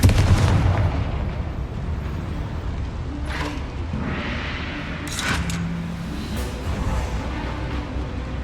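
A Confringo fire spell blast in the game Hogwarts Legacy: a heavy booming burst, then rumbling impacts and sharp bangs rolling through the combat scene.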